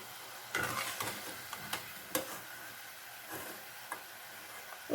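Gram flour bondas frying in oil and being turned over, a faint bubbling sizzle broken by a few sharp clicks and taps of the utensil against the pan, with no voices.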